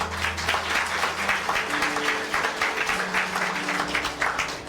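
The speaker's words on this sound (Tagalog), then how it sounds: "Lahat ng nable-bless, pumalakpak sa Lord." A congregation at a church service claps together, a fairly faint but continuous patter of hands that stays even across the few seconds with little voice beneath it.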